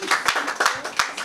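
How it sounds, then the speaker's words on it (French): Audience applause for a woman singer at a worship gathering, a few sharp claps standing out over a busy patter of hands, brief and fairly close. "on peut applaudir pour elle"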